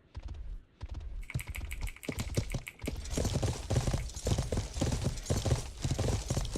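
Horse hooves gallop in a video game: rapid, rhythmic clip-clop beats close up, steady and fairly quiet, with no one talking over them.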